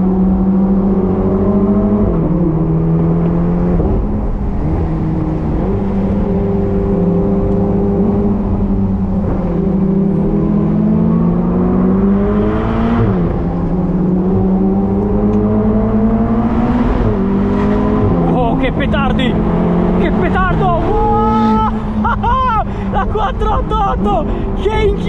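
Supercar engine revving and pulling through a corner while driving in Dubai, a steady loud engine drone with rising and falling revs and a higher whine near the end, with people talking throughout.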